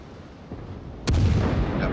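Naval guns of HMS Emerald, a British light cruiser in World of Warships, fire armor-piercing shells: a loud, deep boom strikes about midway and rumbles on, following a faint earlier thump over steady low background noise.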